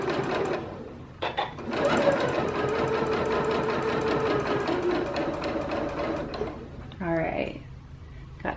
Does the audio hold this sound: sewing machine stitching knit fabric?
yes